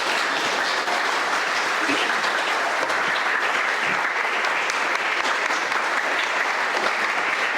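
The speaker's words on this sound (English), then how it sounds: "So a big round of applause again" Audience applause after a talk on Beatrice Warde's life and work, a loud, dense and steady round of clapping lasting several seconds without a break.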